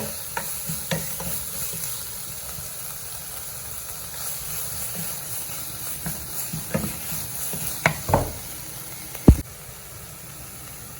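A dried-fish sambal with lemon juice stirred in a hot pan, with scraping strokes over a constant sizzle and a sharp clack of the spoon near the end.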